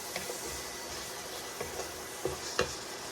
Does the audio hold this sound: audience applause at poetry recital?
no